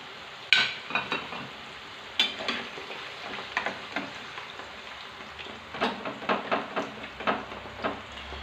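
Potato chips frying in oil in a covered pan, a soft steady sizzle broken by scattered pops and crackles, with no voices.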